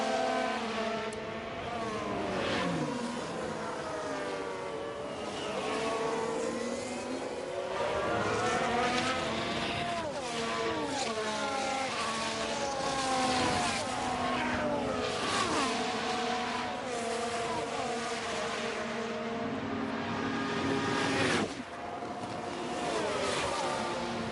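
Formula 1 race cars in the F1 Manager 23 video game roar past in overlapping waves, engine pitches rising and falling steadily as cars pass, with no talk over them.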